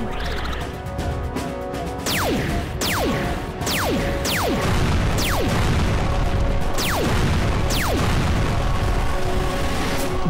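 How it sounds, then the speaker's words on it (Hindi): Rapid cartoon gunshots crack repeatedly over a dense, loud animated action backdrop, with whistling projectiles falling in a steady series of about eight streaks. "सुपर स्पीडो हवा में उड़ते उड़ते हम पे गोलियां चला रहा है।"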